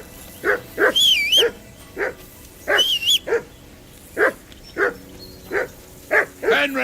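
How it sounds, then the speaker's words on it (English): A dog in Kingdom Come Deliverance 2 barks repeatedly in short, loud bursts, sometimes doubled, with brief pauses between them. Quieter sharp yelps rise over the barks at a few points. "That dog of yours is barking like a devil."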